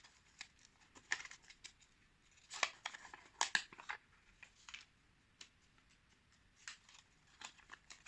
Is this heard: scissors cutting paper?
yes